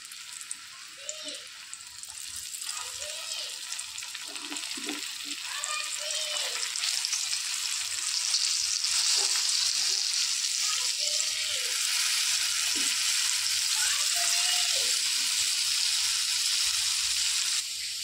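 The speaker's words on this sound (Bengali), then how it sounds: "ওই তেলে বাদবাকি মাছগুলো আবার ভেজে নেব" Lote fish are frying in oil with a steady, even sizzle that grows slightly louder over time. Someone talks over it with a rising, falling voice.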